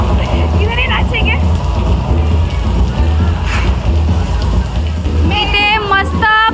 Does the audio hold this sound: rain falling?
yes